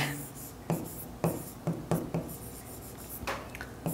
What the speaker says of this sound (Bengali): তো আমি এখানে লিখি তারিখ,